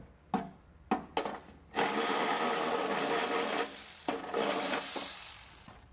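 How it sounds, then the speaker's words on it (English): A 10mm socket wrench loosening heat shield bolts under a 2020 Subaru Forester: three short, sharp ratcheting bursts, then a long, steady grinding whir of spinning the bolt out, close and loud, with no voices. "we'll go ahead and use our 10mm socket to get all 4 of those removed"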